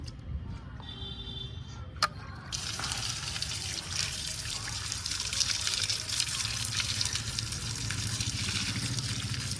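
Tap water running steadily over an adenium plant to rinse off clinging cinder, a continuous close splashing flow that starts after a brief quieter moment and keeps on without pause.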